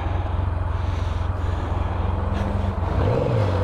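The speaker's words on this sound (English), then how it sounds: "Where's this truck going?" A truck engine drones steadily close by, its low hum rising in a brief rev near the end as the vehicle passes, with no talk over it.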